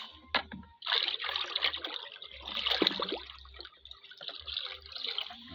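Fertilizer being stirred by hand into a large 70-liter bucket of water for bitter gourd plants, a steady close sloshing and trickling with splashy bursts and a low rumble underneath.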